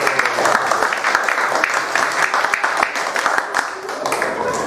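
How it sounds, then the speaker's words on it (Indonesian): Group of participants applauding at a teacher training session, loud, dense clapping from many hands that holds steady throughout. "Tepuk tangan buat kalian."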